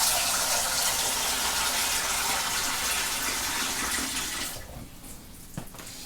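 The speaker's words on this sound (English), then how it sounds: "We're just going to top our fermenting bucket up to 23 litres." Water gushes steadily into a plastic fermenting bucket being topped up to 23 litres for a Coopers Stout home brew kit, a loud continuous pour that drops off and quiets near the end.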